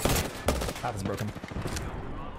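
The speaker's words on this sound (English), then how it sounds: "They all shot me at the same time." Rapid overlapping gunfire from the shooter game Ballistic, dense bursts of shots hitting at once in a short loud cluster, with faint game voices mixed in.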